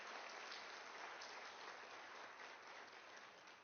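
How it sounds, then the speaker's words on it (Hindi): An audience applauds a person being honoured at a Forever Living India event, a dense, loud wash of clapping that carries steadily throughout and tapers slightly toward the end. "इन्हें मैं चाहूँगी एक जोरदार तालियों के साथ में आप उनका सम्मान करें।"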